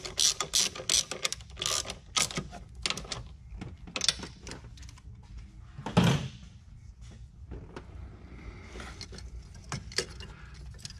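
A stock bolt is ratcheted down onto a stud while fitting a JLT intake on a 2021-or-later Dodge Durango Hellcat, giving a string of quick metallic clicks and clacks with a louder knock partway through.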